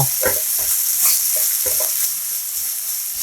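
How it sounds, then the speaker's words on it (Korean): Oyster mushrooms, onion and zucchini stir-fried with minced garlic in a hot pan for a soft tofu rice bowl give a steady close sizzle, broken by the soft scraping and clicks of stirring. "느타리버섯, 양파, 애호박 넣고 1분 정도 골고루 볶아주세요"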